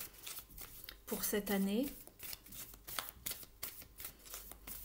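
Tarot cards shuffled for an advice card, crisp riffling and slapping of the deck repeating in quick bursts under a soft French-speaking voice.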